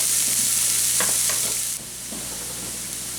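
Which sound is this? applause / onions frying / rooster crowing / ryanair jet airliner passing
onions frying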